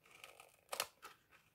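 Scissors trim the fuzzy loop side of a velcro closure on a small papercraft scrapbook pouch, giving one crisp snip followed by a softer second cut, quiet and close with no voices.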